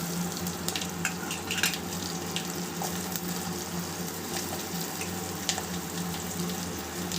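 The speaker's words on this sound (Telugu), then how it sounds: "ఇవి ఆవాలన్నీ చిట్లినాయి కదా ఎర్రగడ్డలు వేసుకున్నాం" Onions frying in oil with spluttering mustard seeds, a continuous close sizzle with scattered sharp crackles and pops, steady throughout without talk.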